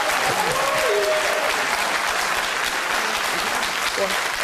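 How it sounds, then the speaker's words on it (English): A debate audience in Kirkcaldy applauds loudly and steadily throughout, a dense wash of clapping with some cheering, while a voice speaks faintly underneath. "You certainly get a cheer for that"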